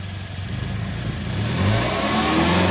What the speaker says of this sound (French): Vas-y, fais vrombrir le moteur.